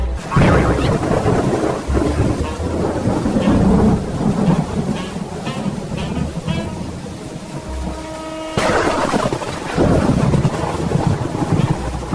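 A storm with thunder and rain roars loud and close: long rumbles of thunder roll over steady pouring rain and gusting wind noise.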